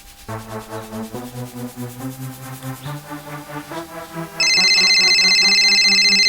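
A phone ringtone plays a repeating melodic tune, then switches abruptly to a loud, steady electronic ring; no voices.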